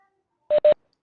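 Two short electronic dial tones sound back to back from a telephone keypad, crisp and close, in otherwise near silence.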